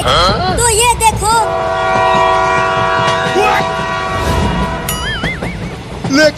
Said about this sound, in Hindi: वो दोनों तो ट्रेन को लेकर भागने लगे।